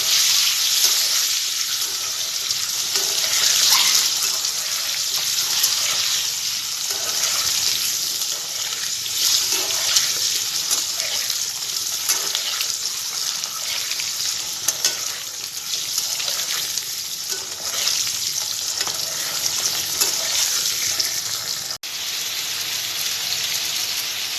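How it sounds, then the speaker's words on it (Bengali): Eggs frying in oil in a pan, a steady loud hiss and crackle of sizzling that carries on unbroken for the whole stretch, with no talking. "ডিমগুলো লাল লাল করে ভেজে নিই"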